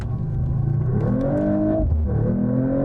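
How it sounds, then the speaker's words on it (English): Mercedes-AMG CLE 53 coupe pulling away at full throttle in Sport Plus mode, its engine tone climbing through the revs, dipping briefly at a gear change, then rising again, loud and heard from inside the cabin. "Let's go full tilt, Sport Plus."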